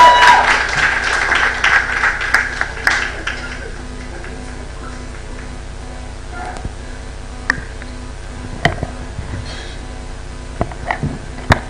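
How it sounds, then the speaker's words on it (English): Applause from the audience at a startup demo day swells loudly for about three seconds, then thins into scattered claps and knocks over a quieter room for the rest. "Please, a round of applause for Town Talk."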